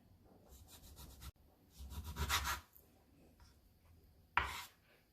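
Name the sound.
knife slicing beef eye round thinly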